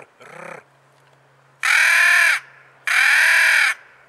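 Loud, harsh caws come from a Faulk's crow call, a mouth-blown wooden call imitating a crow: one short rasp followed by two longer drawn-out calls.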